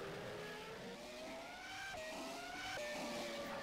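A high-pitched Formula One V10 engine in a racing video game screams steadily at Silverstone, pitch climbing through gear changes with brief dips between shifts, loud and continuous.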